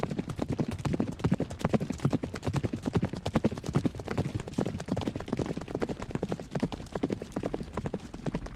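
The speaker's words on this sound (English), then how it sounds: "their wings made the noise of chariots drawn by many charging horses" Many horses gallop in a continuous, loud stream of hoof clip-clops, the rapid drumming rhythm holding steady and close with no voices over it.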